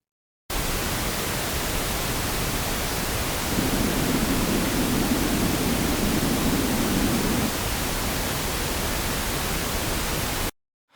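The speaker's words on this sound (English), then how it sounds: "250 Hz boosted sounds like oo." Steady pink noise plays alone for about ten seconds, and in the middle four seconds a boosted 250 Hz octave band makes it swell into a hollow, muffled 'oo'-like hum before it returns to flat noise.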